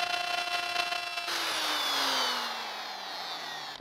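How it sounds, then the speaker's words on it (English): A router with a half-inch straight bit cuts a channel into a butcher block countertop slab. A steady high motor whine shifts as the bit bites into the wood and becomes a rough, sustained cutting roar, close by. "With a router, set a 1/2 inch straight cut bit to a depth of about a 1/2 inch. Then cut a channel into the slabs"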